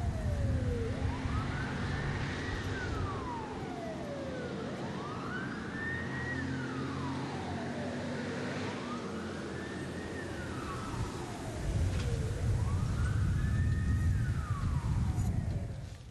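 A fire engine siren wails, sweeping slowly up and down four times, loud and steady, over the rumble of the fire engine's engine during a fire drill at a children's camp.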